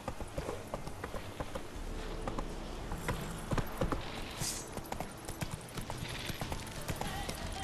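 Roach, a horse in The Witcher 3, clip-clops steadily on hooves at a walking pace, mid-distance, among game ambience with scattered clicks and rustles.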